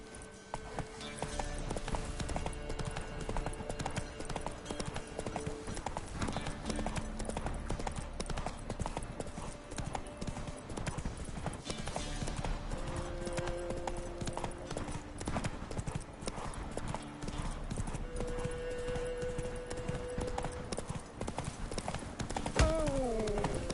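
Roach the horse galloping in The Witcher 3, a steady rapid clip-clop of hooves running throughout, with background game music and faint talk.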